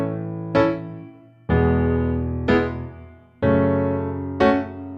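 Piano chords from a song, played without the sustain pedal: five struck chords, each ringing a moment and then dropping off, leaving small gaps between them. Close, clear and unaccompanied.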